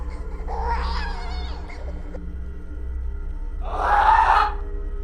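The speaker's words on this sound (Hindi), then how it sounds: "अचानक उसे कोने से हल्की सी रोने की आवाज आई।" A woman's soft crying sound effect for a horror story: a wavering sob early on, then a louder anguished wail near the end, over a low droning background.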